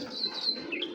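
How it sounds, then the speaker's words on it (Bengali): A male racing pigeon bred for long-distance races calls from close by in a brief burst of bright, repeated chirping notes, alone without talk. "একটা কবুতর দেখাচ্ছি"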